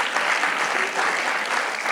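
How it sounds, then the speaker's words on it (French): Audience applause at a talk on police authority and public order, a dense, steady wash of clapping from a crowd, loud and continuous throughout. "je crois qu'on peut applaudir"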